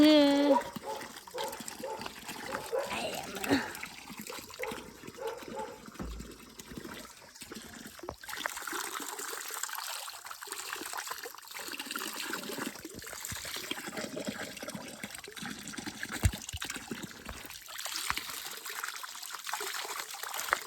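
Water trickling from a tap at a village water spout, a thin steady dribble running under background noise throughout, with a voice speaking over it early on.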